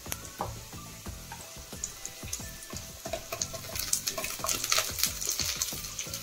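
Onion and capsicum frying in a pan, a busy, crackling sizzle with frequent stirring clatters that grows louder toward the end, close by.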